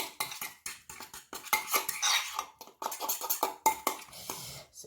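A spoon stirring a mashed banana face mask mixture in a bowl, producing close, quick clinks and scrapes against the bowl in an uneven rhythm, with no talking.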